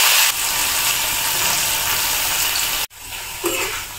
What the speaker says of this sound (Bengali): তেলের ভিতরে পেঁয়াজ কুচিগুলো দিয়ে দিব।